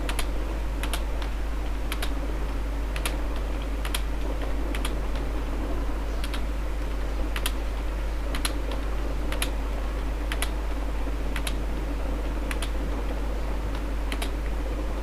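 Numbers being typed on a computer keyboard during a programming lecture, with sharp isolated keystrokes at a steady, evenly spaced rhythm over a constant low hum, close and alone without any voices.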